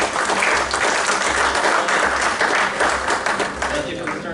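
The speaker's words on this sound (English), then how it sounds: "Give Carol a round of applause." An audience at a deception and magic show gives a sustained round of applause, dense and loud clapping filling the room throughout, with a voice faintly audible underneath.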